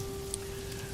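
Steady rain falls on a surface in an even, continuous patter, close and moderately quiet, with no voices.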